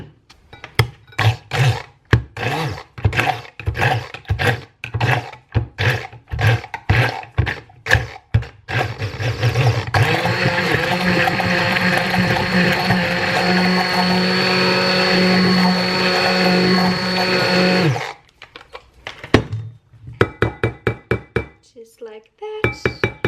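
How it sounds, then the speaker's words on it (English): A small stick blender blends sour cream at home, giving a loud, steady whir for about eight seconds, close by. Sharp kitchen knocks and taps come before and after it. "Then I use my little stick blender."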